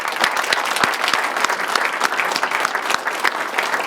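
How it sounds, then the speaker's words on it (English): An audience applauds at a police swearing-in ceremony for new officers. The clapping is steady and fairly loud throughout, a dense indoor patter of many hands with no talk over it. "would you join me in giving them a round of applause?"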